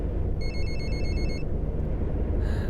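A passenger's phone rings aboard a coach in the Fernbus Simulator driving game, two quick electronic trill bursts over the constant low rumble of the bus engine, followed by a brief chime.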